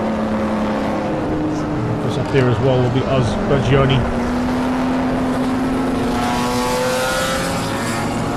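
BMW race cars roar around the Zwartkops circuit in a racing series event, engines droning and shifting pitch as the pack passes, loud beneath continuous race commentary.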